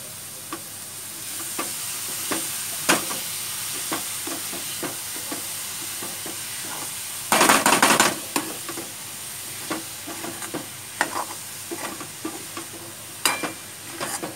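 Capsicum (bell pepper) fries in a pan with a steady sizzle while a spoon stirs it in repeated scraping clicks, a louder burst of hissing steam surging briefly midway, no voices.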